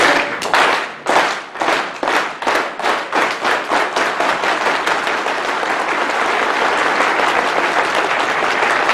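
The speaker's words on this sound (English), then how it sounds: "We're going to do a round of applause. We're going to get quicker and quicker." A standing audience at a leadership conference keynote claps in unison, the rhythmic claps speeding up until they merge into loud, continuous applause.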